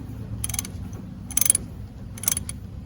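An 11 mm wrench works a brake hose line loose from the rear brake caliper of a 2008 Pontiac G6 with a 2.4L engine, giving three short bursts of metallic ratcheting clicks over a low, steady background hum.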